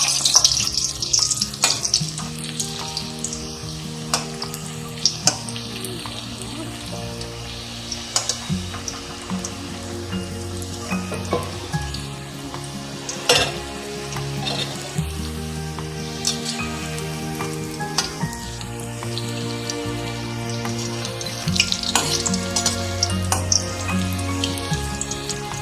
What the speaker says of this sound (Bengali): আর একবার ভাজবো তাতে মুচমুচে হয়